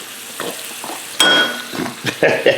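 Food frying in a pan for a leftover tuna scramble, with close sizzling, scraping stirs and a few metallic clinks in uneven bursts.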